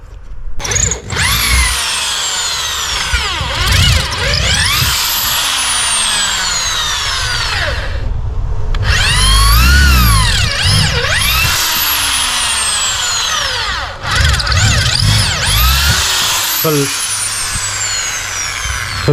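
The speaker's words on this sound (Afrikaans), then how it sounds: "Gelukkig gaan die boorpunt baie makliker deur die rubber as die grinder of die jigsaw." Power drill with a bit boring through rubber during a DIY build converting an ordinary car jack, high whining bursts that rise and fall in pitch, loud and close, with short pauses between runs.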